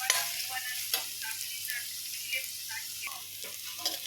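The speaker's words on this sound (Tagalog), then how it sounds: "gisain natin yung ating luya para malasa po" Ginger sautés in a hot pan for a Filipino sinampalukang manok dish, giving a steady bright sizzle with occasional soft stirring scrapes. The sound is close and continuous.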